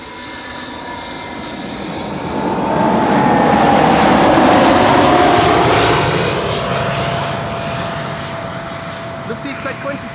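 Airliner arriving at Amsterdam Schiphol Airport, a loud engine roar that swells over several seconds, peaks mid-way with a high whine gliding downward, then slowly fades as the aircraft passes close by.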